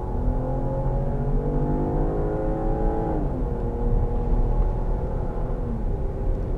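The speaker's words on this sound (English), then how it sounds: "brake the car. Nice, smooth, even brake, and back up to speed." Steady engine and road noise from a 2010 Volvo XC60 with a turbo as it slows smoothly, its tone falling partway through, then accelerating back up to speed, heard from inside the car.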